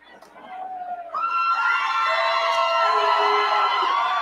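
A live wrestling event crowd cheers and shouts, swelling from a quieter start into loud, sustained cheering with whoops.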